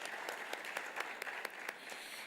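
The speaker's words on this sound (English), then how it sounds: "clap for yourselves." Applause from the audience at an African youth convention: a faint, dense wash of many hands clapping, steady and continuous for a couple of seconds.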